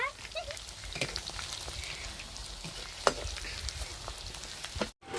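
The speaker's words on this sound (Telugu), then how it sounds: "చికెన్ ముక్కలు అయితే బాగా ఫ్రై అయినాయి" Chicken pieces fry in a pan with a light crackling sizzle and scattered pops and spatters, faint and close, plus a brief stirring knock partway through.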